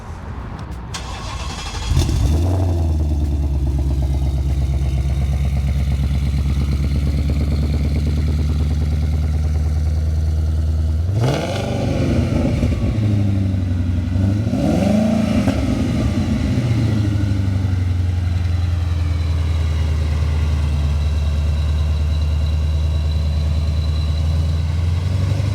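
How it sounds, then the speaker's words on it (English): Twin-turbo 5.0 Ford Mustang starting up: a quick crank catches into a loud, deep idle, then two sharp revs that rise and fall before it settles back to a steady, rumbling idle close by. "We want to start it up and take it for a drive?"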